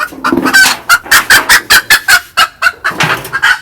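Hens clucking loudly and close by in a rapid string of short, rhythmic calls, with no other sound.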